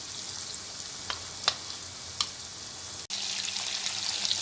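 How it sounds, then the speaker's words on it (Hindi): Boneless marinated chicken frying in hot oil, a steady broadband sizzle with a few sharp crackles and pops, with a brief break near the end before the sizzling resumes. "इसका फ्राइंग टाइम तकरीबन 6 से 7 मिनट है, क्योंकि ये बोनलेस चिकन है और मैरिनेटेड है"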